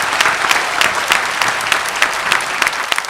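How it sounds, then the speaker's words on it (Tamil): An audience applauding a speaker at an event, dense sustained clapping from many hands that stays fairly loud and even throughout, with no speech over it. "ஒரு கைத்தட்டல் கொடுத்து நம்ம அவருக்கு."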